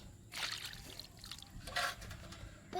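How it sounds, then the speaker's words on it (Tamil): Water poured into a solar-lamp insect trap, heard as two short splashy bursts of pouring and trickling liquid over a low background hum. "இப்படி கொஞ்சம் தண்ணி ஊற்றணும்"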